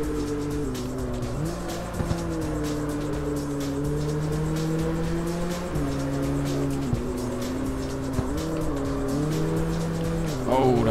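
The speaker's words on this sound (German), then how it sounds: "Oh, da habe ich zu viel Gas gegeben." A Nissan Skyline 2000 GTX race car in CarX Street online multiplayer, its engine revving hard under heavy throttle, the pitch rising and dropping through gear changes with brief tire squeals, loud and sustained throughout.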